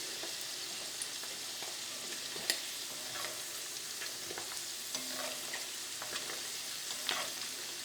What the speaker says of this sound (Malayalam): ഇനി നമുക്ക് ബാക്കിയുള്ള ചെമ്മീനും കൂടിയിട്ട് ഇതേപോലെ തന്നെ നമുക്ക് വറുത്തെടുക്കാം